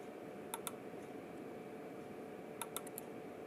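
A few light, sharp clicks from a computer keyboard, two early and a small cluster later, faint against a steady background hum.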